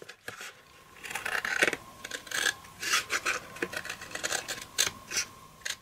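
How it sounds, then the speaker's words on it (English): Scissors snip through card paper, trimming a piece off a layered fold card: a run of short, crisp rasping cuts in an irregular rhythm, close and fairly quiet, with no voice. "Now I'm going to trim this off."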